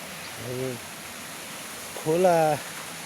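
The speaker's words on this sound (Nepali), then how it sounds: "त्यो चाहिँ हाम्रो यहाँको खोला" A local stream flowing near a company vegetable garden, low in water outside the rainy season, gives a soft continuous rushing wash beneath two brief bursts of talk.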